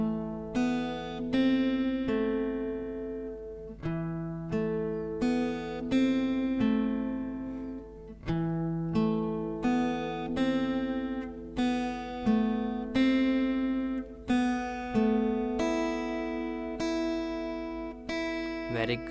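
Slow fingerstyle acoustic guitar plays the melody of Bella Ciao, with single plucked notes ringing out one after another in an even, unhurried rhythm and no voice over them.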